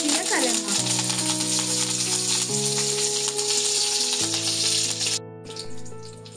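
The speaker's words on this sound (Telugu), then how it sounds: "తాలింపు సరిపడా ఆయిల్ వేసుకొని జీలకర్ర, ఆవాలు, మెయిన్ దహి వడకి మిర్చి" Cumin, mustard seeds and chillies tempering in oil for dahi vada, a steady loud sizzle with musical tones and clinks running through, then a sudden drop to a softer hiss near the end.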